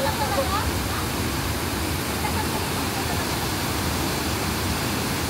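Strong current pouring over Bolinao Falls 3, a steady broadband roar of rushing water filling the whole clip at close range, with a faint voice briefly audible near the start.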